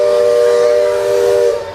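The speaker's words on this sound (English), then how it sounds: "You just heard the steam whistle." The steam whistle of the Liberty Belle riverboat at Magic Kingdom blows one loud, sustained tonal blast with rich harmonics, holding steady before fading out at the end.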